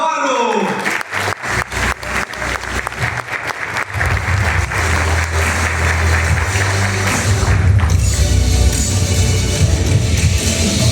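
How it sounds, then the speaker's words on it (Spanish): An audience at a crypto conference breaks into loud applause to welcome a speaker, opening with sharp separate claps and a few thuds that swell into sustained dense clapping from a large crowd. "quiero que por favor recibamos con un fuerte aplauso a Bernardo Navarro"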